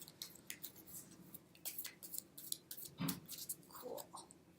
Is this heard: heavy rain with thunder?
no